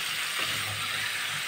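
Pumpkin curry with spices cooking in a pan, a steady soft sizzle with faint stirring, close and continuous with no talking.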